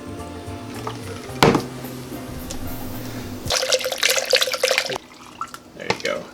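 A container being rinsed under a tap: a low background hum and a sharp knock, then a burst of running, splashing water for about a second and a half before it stops, with a voice talking briefly.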